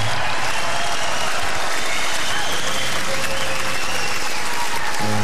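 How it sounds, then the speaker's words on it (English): A comedy club audience at a stand-up show applauds, a loud continuous wash of clapping and crowd noise filling the room, with a voice briefly audible near the end. "No, you don't have to clap."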